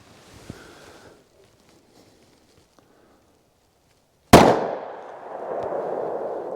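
A single sharp, loud 9mm gunshot from a 3-inch barrel firing Winchester Silvertip 115 grain rounds over a chronograph, following a few seconds of quiet outdoor shuffling. The blast is close and is followed by a lingering echo.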